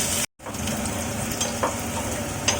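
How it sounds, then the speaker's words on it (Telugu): Chopped garlic frying in a pot for mango pickle, a steady close sizzle with soft stirring scrapes, briefly cut by a short gap near the start. "ఇప్పుడు తెల్లుల్లి యాడ్ చేసేసుకోవాలి."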